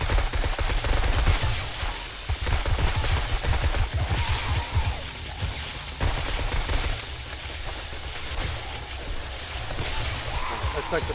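Rapid automated turret fire in 7 Days to Die (Darkness Falls mod) during a zombie horde fight at a Central Park base, a dense, continuous crackling barrage sustained throughout, with occasional talk over it.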